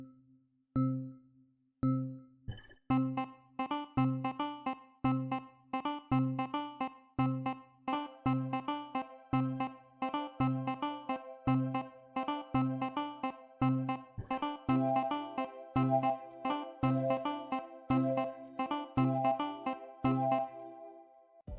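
Zulu Amapiano sample pack melodies play on their own: a steady, plucky keyed pattern of repeating notes in a regular groove, with a brighter layer of higher tones joining about two-thirds of the way through.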